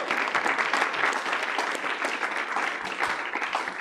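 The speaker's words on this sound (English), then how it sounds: "If we could give them a round of applause." Applause from an audience at a student government meeting after a resolution passes, dense steady clapping lasting several seconds without talk.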